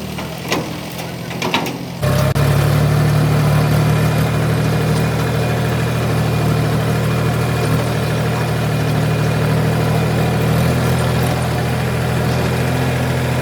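An empty tractor pulling a trailer starts up after a couple of seconds of quieter background, then runs with a steady, loud low engine drone and rumble that continues unbroken to the end.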